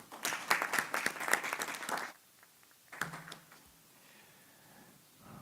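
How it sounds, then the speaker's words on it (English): Brief applause from a small audience at a Racial Equity Commission meeting lasts about two seconds, then cuts off abruptly, followed by a short burst of handling noise and quiet room tone. "Can we give him another round of applause?"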